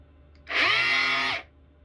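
A faulty Dewalt drywall sander whirs on for about a second, loud and close, with a harsh rattling buzz, then cuts off abruptly.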